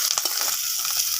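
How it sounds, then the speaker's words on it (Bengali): Chopped tomato fries in spice paste for chital fish kalia, giving off a steady, soft sizzle and hiss with a few faint stirring scrapes, no talking. "এর মধ্যে আমি টমেটোটা দিয়ে দেবো, দিয়ে ভালো করে আর একটু ভেজে নেব"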